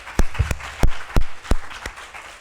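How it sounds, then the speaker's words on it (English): A handful of loud, separate claps rings out from a small group at a teen pageant project presentation, spaced unevenly over a couple of seconds with no voices. "So I think we can give each other a round of applause."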